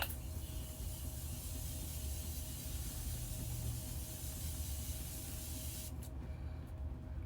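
Makeup setting spray misted all over a face, a long continuous hissing spray close by that cuts off near the end, followed by a couple of brief faint puffs.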